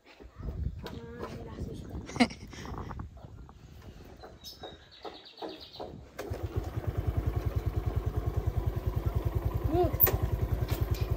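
Motorcycle engine idling and running close by, a steady pulsing drone that starts partway through after a stretch of voices, clattering and birds, with people talking over it.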